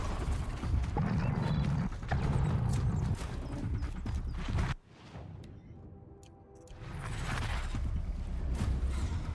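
A horse's hooves clip-clop in the Horizon Zero Dawn video game, rapid steady hoofbeats that drop away briefly mid-clip and then return with game ambience.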